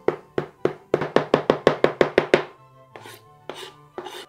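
A knife chops flat leaf parsley on a cutting board: about a dozen quick, evenly spaced, close-up knocks, followed by a few slower, scattered strokes.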